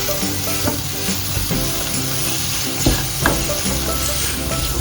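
Mashed ripe banana and sugar cook in a pan with a steady sizzle and frying crackle, plus occasional stirring scrapes, close and fairly loud with no talking.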